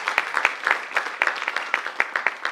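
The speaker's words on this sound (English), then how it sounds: "Can we give ourselves a good big round of applause?" An audience at a motivational talk gives a round of applause, many hands clapping in a busy, uneven patter at moderate distance, with no speech over it.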